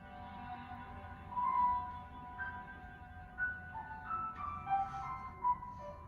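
Faint, high-pitched piano notes played softly and sparsely in the high register, imitating a quena flute, with a breathy, flute-like quality over a quiet background hiss.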